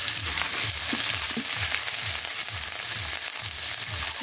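Ginger paste frying in a pan with onions and garlic paste for a goat-meat khichuri, giving a steady, close hiss of sizzling oil with soft rhythmic stirring scrapes throughout, no voices.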